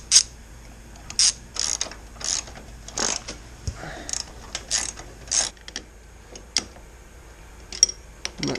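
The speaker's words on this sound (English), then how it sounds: "So I'm going to take my ratchet. I'm going to disconnect both of those." A ratchet loosening 16 mm bolts on a car while old floor pans are removed, with repeated bursts of quick metallic clicking separated by short pauses, heard up close.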